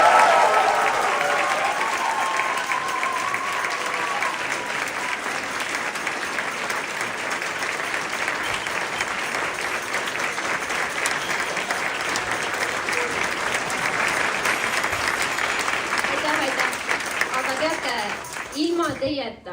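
Sustained audience applause at a school concert for a Nõmme hobby school student, a dense, steady wash of clapping lasting throughout and fading only at the very end, with a voice briefly audible near the start.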